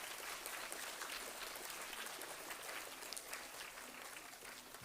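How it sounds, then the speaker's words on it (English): Grade V students applaud together at a school scholar badge ceremony, a steady, dense wash of clapping that holds at an even level throughout without pauses. "let's all clap for ourselves because we are all worth it"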